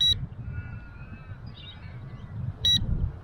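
Two short bursts of high electronic beeping from an LYZRC L200 Pro Max GPS camera drone during a home return test, one at the start and one near the end, over a low rumbling background.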